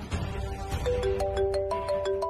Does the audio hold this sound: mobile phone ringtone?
yes